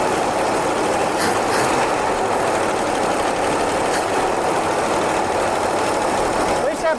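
A 1976 AMC Pacer's engine, abandoned and starting for the first time in 20 years with a sticking choke, runs loud and steady at a high idle, heard up close from inside the car.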